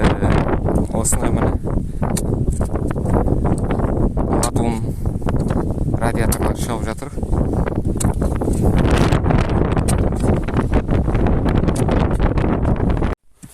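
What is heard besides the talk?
wind blowing on the microphone outdoors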